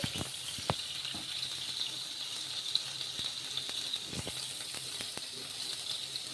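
Moong dal and amaranth leaf dosa cooks on a pan over low heat, a soft steady sizzle broken by a few scattered light taps and scrapes, close and quiet with no talking.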